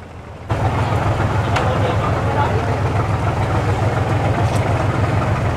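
A large Kien Giang fishing boat's Mitsubishi engine cuts in and runs loud and steady while the boat turns and manoeuvres, a constant low droning rumble with faint voices around it.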